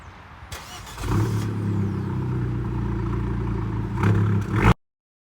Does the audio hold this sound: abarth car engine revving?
yes